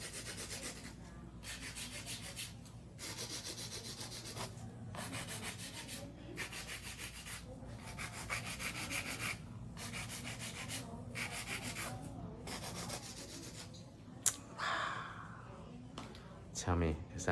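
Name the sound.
filing acrylic nails with a nail file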